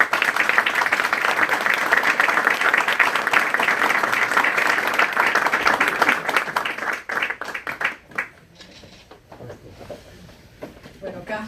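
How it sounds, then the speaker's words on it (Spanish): An audience at a forum on organized crime in Venezuela applauds to welcome the panelists. Dense, loud clapping holds steady for several seconds, then breaks into scattered claps and dies away. "les ruego a todos ustedes que recibamos a nuestros panelistas con un fuerte aplauso"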